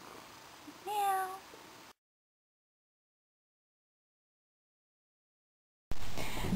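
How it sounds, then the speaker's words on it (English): A cat gives a short meow up close, followed by a long stretch of near silence before faint noise returns. "You can hear him purring."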